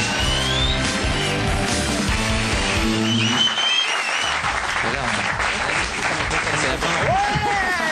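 Studio audience bursting into loud, dense clapping, with background music at the start giving way to sustained applause and a few shouts.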